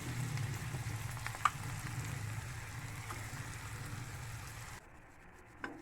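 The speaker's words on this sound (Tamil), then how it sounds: "கூடவே வந்து நம்ம அரைச்சி வச்ச பேஸ்ட்டும் சேர்த்து நல்லா வதக்கலாம் ஃப்ரெண்ட்ஸ்," Ground ginger paste sautéing in oil, giving a low, steady frying crackle with a few isolated ticks before it drops away to near quiet, leaving a single late click.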